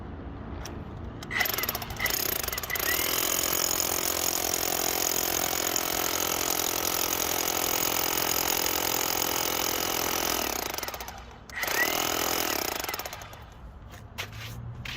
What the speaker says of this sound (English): So I'm going to go ahead and drill this now.